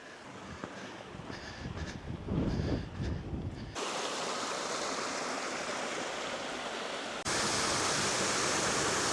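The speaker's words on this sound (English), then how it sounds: "Lovely little waterfall there." Small waterfall beside an abandoned mine on Renfrewshire's highest peak, a steady broadband rush of falling water that grows louder and fuller as it is approached, with a few faint scuffs early on and no talk.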